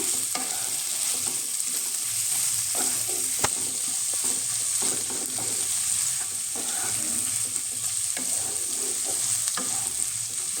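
Tomato softening in hot oil for a restaurant-style mushroom masala gives a steady, even sizzle, with light spoon scrapes and taps as it is stirred, close and continuous.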